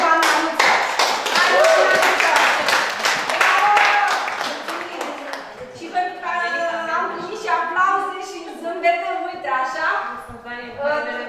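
Clapping bursts out loudly from a group, then fades into scattered claps as people start talking and cheering over it.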